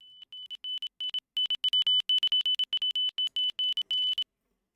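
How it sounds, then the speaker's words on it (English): Rapid, irregular high-pitched electronic beeps at one steady pitch, some short and some longer, sound loud and clear with no other sound, forming a grating tone pattern in a capture-the-flag challenge audio file. "So you have this beeping sound."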